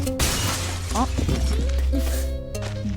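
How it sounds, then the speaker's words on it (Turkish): In the Goat Simulator video game, a sharp glass-breaking crash rings out loudly near the start, and a person talks over the clattering aftermath. "Cam kırılması sesi geldi ama kırılmadı."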